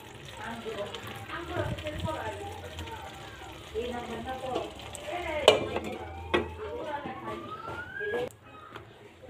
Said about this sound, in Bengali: ঢাকনাটা খুলে একটু নেড়ে দেব